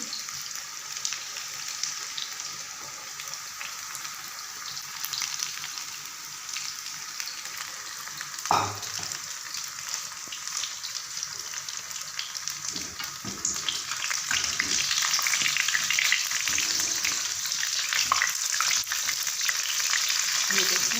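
Chicken legs and chips deep-frying together in oil, a constant bubbling sizzle with one brief clunk midway, swelling louder toward the end, while a voice speaks briefly.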